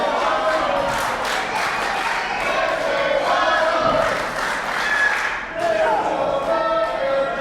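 A wrestling crowd shouts and roars continuously, a dense wash of many voices rising and falling, with a nearer voice speaking over the din.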